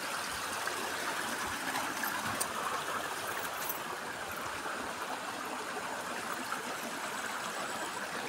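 Water of a clear creek rushes steadily over rocks in a continuous, even babble, close by and fairly loud, with no voices present.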